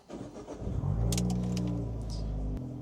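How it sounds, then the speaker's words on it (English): A 2014 Fiat 500 Abarth engine cranks and fires up close by, quickly swelling into a loud, steady exhaust drone that holds through startup, with a brief jingle of keys near the start. "I like the tone of this exhaust as well on startup"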